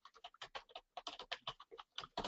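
Quick keystrokes on a computer keyboard while entering design notes into a diagram, a steady run of close, crisp taps in an uneven rhythm with no talking.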